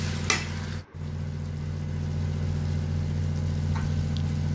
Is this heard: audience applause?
no